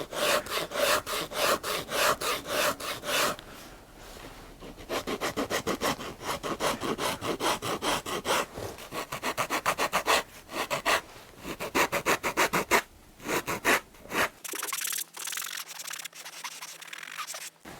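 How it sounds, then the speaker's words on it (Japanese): Repeated rasping strokes of a file against the leather sole edge of a handmade shoe, fast and rhythmic, close up, with a few short pauses before the scraping stops. "次はコバをヤスリで調整していきます。"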